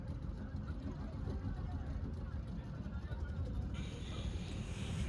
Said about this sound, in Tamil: கிளம்பிடுச்சு போட்டு. இதான் நூரெலியாவில் உள்ள போட் சவாரி.